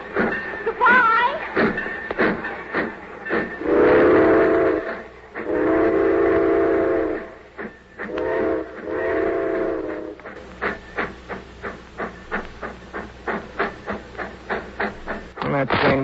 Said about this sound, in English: When that train went,